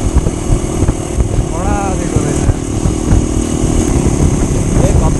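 A Crossfire GR7 motorcycle engine drones loudly and continuously while riding on a road trip through Bardiya, with heavy wind buffeting and a voice talking over it.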